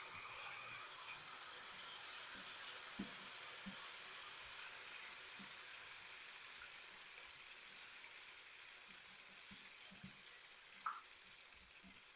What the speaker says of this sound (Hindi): और बकाया जो हमारा अंडा बचा है ये भी फ्राई कर लेंगे पैन में शामिल करके